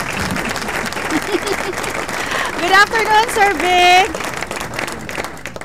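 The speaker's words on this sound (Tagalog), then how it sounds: "Nasaan yung palakpak ko" An applause sound effect on a Filipino business radio show, a steady bed of clapping running under talk and greetings, with louder voiced tones swelling midway.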